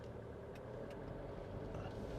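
Jeep Meridian 2-litre diesel SUV idling and pulling away in drive, a steady low engine hum with faint cabin noise, no speech.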